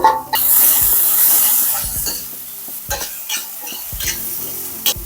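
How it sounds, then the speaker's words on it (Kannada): Onions drop into hot oil with mustard seeds, chana dal, urad dal and curry leaves, setting off a loud hissing burst that fades into quieter sizzling broken by several sharp stirring clatters. "ಇವಾಗ ಈರುಳ್ಳಿ ಹಾಕೊಳ್ಳೋಣ ಈರುಳ್ಳಿ ಚೆನ್ನಾಗಿ ಹುರ್ಕೋಬೇಕು"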